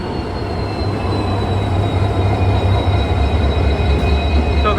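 Hubli–Nizamuddin Express 20657 pulling into a station on its first commercial run, a loud steady rolling rumble of coaches with a faint thin wheel squeal above it, close by, with no talk.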